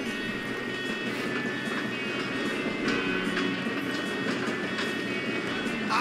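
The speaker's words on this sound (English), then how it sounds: "Come on, we need to stop this train." A train rumbles along its rails in Red Dead Redemption 2, a loud, continuous roar with rattling clatter that holds steady throughout.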